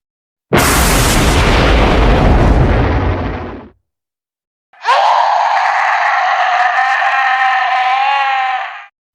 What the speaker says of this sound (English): The church exploded with divine light.